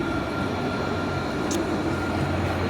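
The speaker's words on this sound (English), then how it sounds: "There goes the tram." A tram passes along a Nottingham city street as a loud, steady rumble and rolling drone that fills the whole stretch, with a brief high squeal partway through and no talk.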